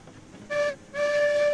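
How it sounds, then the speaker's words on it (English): A small steam locomotive whistle from the Railroads Online game blows a short toot, then a longer sustained blast, bright and clear over a quiet rumbling background. "the whistle is so adorable now"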